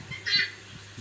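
A chicken on a poultry farm gives one short, fairly close cluck over a low, quiet background hum.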